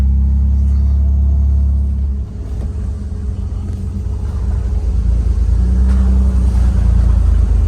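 Supercharged L67 engine in a Toyota Hilux crawling at about 1100 RPM, giving a steady, loud low rumble that dips briefly and then swells slightly, with no talk over it.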